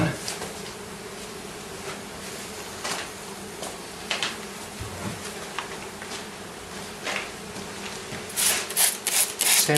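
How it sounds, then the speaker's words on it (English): Bees buzz close by around syrup-wet sugar-water feeders, a constant droning hum with rising and falling swells, mixed with rustling and scraping nearby. "Got some bees trying to get in at me."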